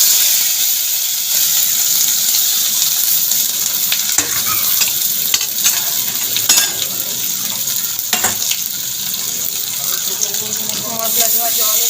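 Spiced taro (gathi kochu) sizzles and fries in hot oil while being stirred, a loud continuous crackling hiss with sharper clatters of the spoon against the pan, heard up close with no talk.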